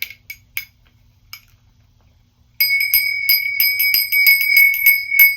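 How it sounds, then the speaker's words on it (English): A small bell rings in quick, bright strikes, first a few isolated dings with quiet gaps between them, then a rapid run of repeated rings, loud and close, with no talking. "I actually want to ring the bell for this."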